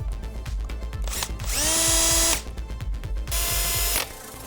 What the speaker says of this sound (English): we're going to use electric ratchet to back them out fully